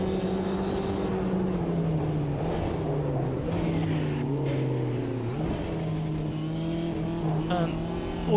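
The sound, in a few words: Mini race car engine in the video game Automobilista 2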